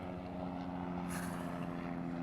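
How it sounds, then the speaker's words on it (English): Droning rotor and engine noise from a helicopter passing overhead, steady and moderately distant, with a faint whooshing swell midway through. "There's a helicopter passing, so bear with me on the sound."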